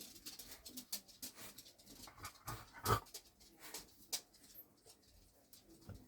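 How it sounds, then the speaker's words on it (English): Pet dogs entering a room at home give soft padding, jingling, and faint whimpering or panting, scattered and quiet with a few sharper clicks and knocks, and no talking. "Sorry, my dogs have just come in."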